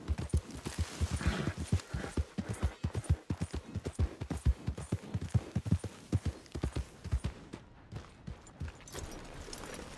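Rapid rhythmic clip-clop of a galloping horse's hooves in the video game Red Dead Redemption 2, steady and close throughout with a brief lull near the end, no voices.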